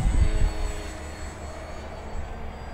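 FMS J-3 Piper Cub 1400mm RC model floatplane flying outdoors, its electric motor droning steadily at a moderate distance, with a louder gust of wind noise at the start and no voices.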